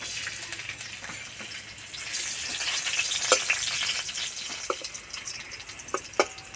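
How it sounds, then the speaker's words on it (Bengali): Crushed garlic and a dried red chilli frying in mustard oil in a kadai, a steady close sizzle broken by sharp clicks of stirring, with no voices. "রসুন ভাজা হয়ে গেছে খুব সুন্দর গন্ধ বেড়ে গেছে"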